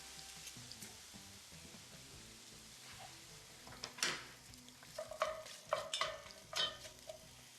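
Garlic frying in a pan in the video game Wanted: Dead, a low sizzle under scattered scraping stirs and a few sharp utensil clinks against the pan, fairly quiet and without talking.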